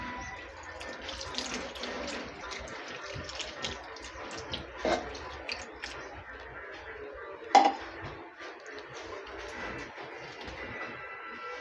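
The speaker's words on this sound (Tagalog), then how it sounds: "Pagkatapos lagyan ho natin ng tubig." Water poured from a tap into a cooking pot for ginataang tilapia, a steady splashing and running stream with a couple of clanks of the pot.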